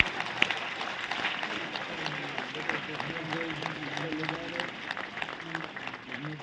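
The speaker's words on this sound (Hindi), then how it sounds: "आपके आशीर्वाद की तालियां मेरा आना सार्थक हो गया" Steady applause from an audience at a Hindi comic poetry gathering, dense clapping held at an even level throughout, with a voice faintly audible underneath.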